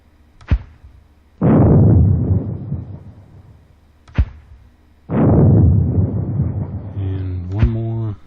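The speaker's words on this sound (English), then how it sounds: "Oh, one more mortar." 50mm HE mortar rounds in a war video game: two sharp launch thumps each followed by a loud, rolling explosion lasting several seconds, with faint synthetic tones near the end.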